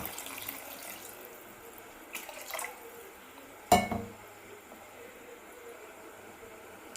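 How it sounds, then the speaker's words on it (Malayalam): Water is poured into a pot of simmering chili curry in a home kitchen. A short, quiet splash comes near the middle against a faint background, with no one speaking. "ഇനി ആവശ്യത്തിന് വെള്ളം ഒഴിക്കുക."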